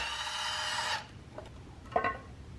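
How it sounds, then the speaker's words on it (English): The last bolt coming out of an LS engine timing cover: a ratcheting, rasping whir for about a second, then quiet with a couple of faint metallic clicks and scrapes. "Now we're gonna pull the timing cover off. This is the last bolt."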